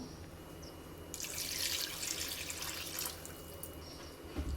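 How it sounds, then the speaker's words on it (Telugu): Water pours into a pan of simmering fish curry, a soft splashing rush that swells for a couple of seconds and then fades back to quiet. "ఇంకా కొంచెం వాటర్ అయితే వేసుకుందాం"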